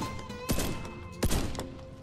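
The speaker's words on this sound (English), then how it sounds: "Let's use this shotgun for a while." Two heavy shotgun blasts in the first-person shooter Warface, sharp and loud, spaced under a second apart over a low, steady game ambience, with no talk.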